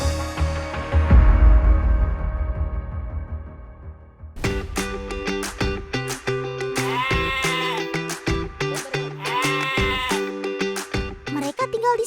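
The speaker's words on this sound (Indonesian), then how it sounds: "Ada domba yang melahirkan." Batur sheep bleat repeatedly in the cold Dieng mountains, where a ewe is giving birth. The calls come close and loud in a rapid series after a low rumbling opening.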